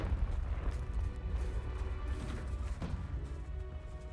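Deep rumbling blast of the Confringo explosion spell in Hogwarts Legacy, a heavy low boom with crackling debris that carries on continuously without any voices.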